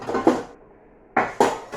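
A cooking pan is handled in a kitchen, two clattering metallic knocks at the start and two more after a quiet pause, close and fairly loud.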